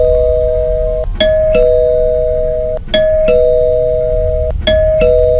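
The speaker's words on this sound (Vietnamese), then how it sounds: "Chuông cửa kêu inh ỏi." A doorbell rings loudly, repeating a clear two-tone ding-dong chime about three times in steady succession, with no voices.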